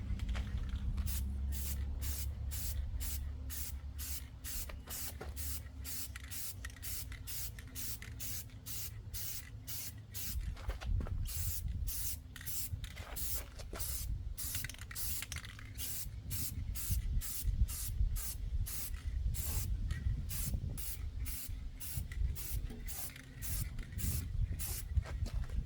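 Rattle can spray paint going onto a truck in a series of close, sharp hissing bursts, each a second or two long with short gaps, repeating steadily, with no one talking.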